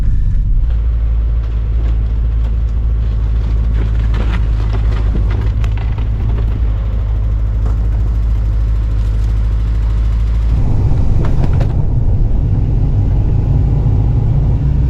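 A vehicle turns around in a snowy blizzard, its engine a steady deep rumble with clanks and knocks scattered through, and the engine note shifts and grows louder toward the end.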